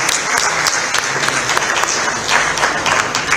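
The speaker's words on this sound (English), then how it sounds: "So give him a round of applause." Audience applause for Maharashtra's Chief Minister at a US-India trade event, a dense, continuous round of clapping from a large crowd, loud and even across the whole stretch.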